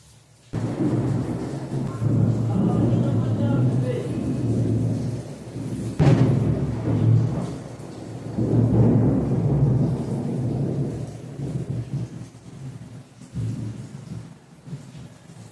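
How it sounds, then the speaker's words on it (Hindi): Deep, loud thunder rolls through a heavy rainstorm, with a sharp crack around the middle followed by long rumbling peals over steady rain. "बादल भी बहुत तेज कड़ाके के साथ गरज रहा है भाई"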